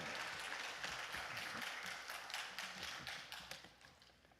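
A church congregation claps to welcome the pastor, with faint, distant applause that holds steady and then gradually tapers away.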